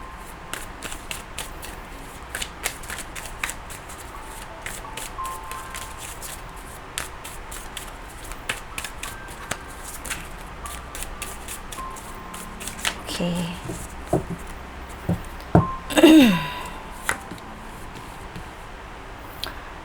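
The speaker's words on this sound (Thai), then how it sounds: "พี่ก็เลยจะสับไพ่ให้ละเอียด นิดนึงเนาะให้รับรู้ถึงพลังงานของไพ่" Tarot cards being shuffled by hand, soft repeated riffling and flicking clicks spread throughout, with a louder burst of handling near the end; a voice speaks quietly underneath.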